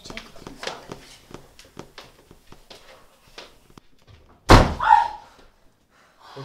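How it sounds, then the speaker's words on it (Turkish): A door slams shut in the wind with a single loud bang and a short rattling echo, after a stretch of quiet tapping and small movements in a room. "Rüzgar esti, kapı çarptı."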